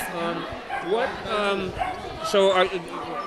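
A puppy at a dog adoption event yips and barks in short bursts, close by and mixed with people talking.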